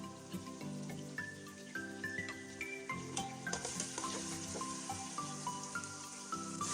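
Beef frying with garlic and ginger for a Karachi-style yakhni biryani gives a soft, continuous sizzle that sits beneath louder background music.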